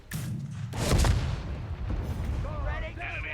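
Mortar fire and explosions in Company of Heroes 3 pre-alpha: a heavy, close boom that swells and rumbles for about a second, followed by a lingering low battlefield rumble under a talking voice.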